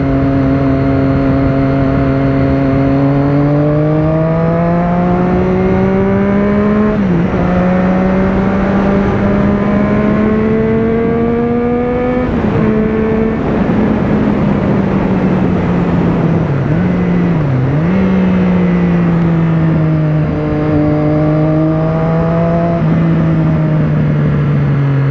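A car engine drops through the gears and revs up and down several times, a loud, close, continuous drone with rising and falling pitch sweeps outside a house, no voices.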